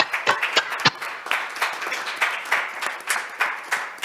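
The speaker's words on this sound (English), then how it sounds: "So can we have a round of applause, please, for our panelists today and the presentations that we've heard." An audience at a sustainable forest investment event applauds the panelists, a thin, uneven round of claps with a few sharper individual hand strikes standing out over a few seconds.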